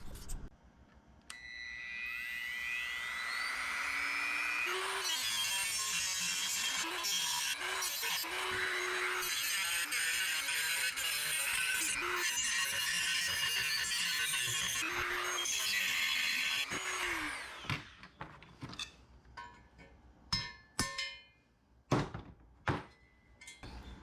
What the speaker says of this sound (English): you can trim this out with a Dremel, and I'm gonna do that right now